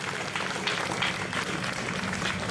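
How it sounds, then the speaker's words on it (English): An outdoor crowd at a trans pride march in Melbourne claps and cheers for a speaker named Kitty, a steady patter of applause with scattered whoops, moderately distant and even throughout. "give a big round of applause to Kitty"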